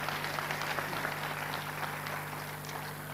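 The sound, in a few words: audience applause for the ambassador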